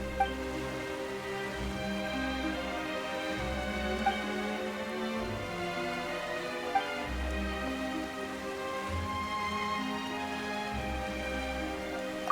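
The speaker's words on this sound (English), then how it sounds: "Why is it raining all of a sudden?" Rain falls in the fantasy video game Genshin Impact, a soft steady patter of drops under a sustained, layered musical score with no one speaking.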